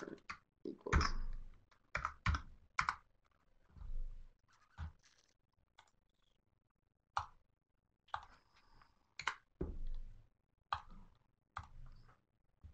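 Typing on a computer keyboard during software entry, irregular bursts of close clicking keystrokes separated by short pauses and quiet gaps, with no talk over them.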